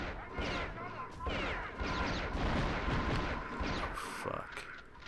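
Gunfire in Return to Castle Wolfenstein on PS2 comes as a dense, loud run of shots and blasts, with crashes and booms overlapping throughout.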